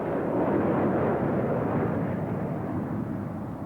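A Saab jet trainer flown by an Austrian aerobatic team at an air show makes a loud, broad, steady roar that eases slightly as it passes.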